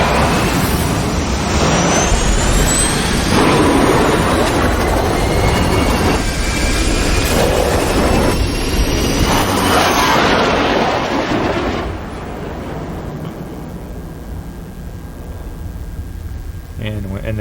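A spacecraft in the film Interstellar blasts off from a high-gravity planet, a loud sustained rocket roar for about twelve seconds that then drops to a quieter rumble.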